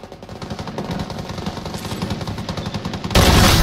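Rapid gunfire from the shooter video game Strinova, a steady string of close, loud shots ending in a louder, dense burst.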